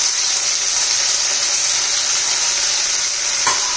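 Green beans and carrots tossed into garlic frying in hot oil, making a loud continuous close sizzle with a faint stirring scrape near the end.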